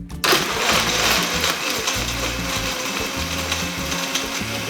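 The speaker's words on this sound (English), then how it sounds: "Put the lid onto the blender and give it a whirl." Strawberry margarita whirring in a countertop blender, a loud steady motor drone with churning ice and liquid that starts abruptly and runs continuously close up.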